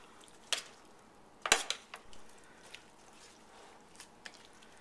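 Salad being tossed with added liquid in a bowl, a few sharp utensil clinks against the dish and soft wet squishes, close and fairly quiet, with no talking.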